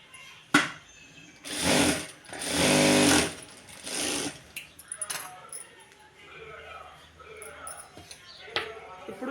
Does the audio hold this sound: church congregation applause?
no